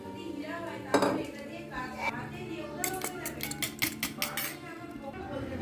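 Fried fish pieces mixed by hand into a spice mixture of turmeric, sour yogurt and tomato sauce, with clinks and scrapes of a utensil against a metal bowl or pan, close, under faint background voices and household noise.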